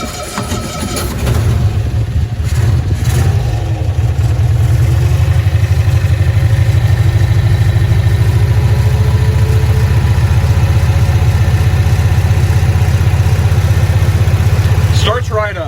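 A 1965 Cushman Truckster engine cranks and fires within the first few seconds, then settles into a steady, loud, close idle that runs evenly through to the end.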